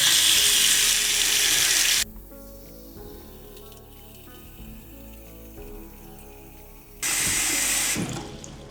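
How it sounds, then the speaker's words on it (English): Water is poured into a sink to submerge ThruNite T10 and Ti3 keychain flashlights, a loud broadband splashing rush for about two seconds, then quiet handling sounds, then a second burst of pouring near the end. "I'm just going to pour water into the sink now"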